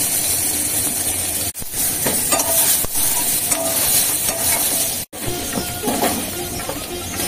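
Hot oil sizzling in a pan as frying continues, a steady close hiss with faint clinks and stirring, briefly interrupted twice, no speech.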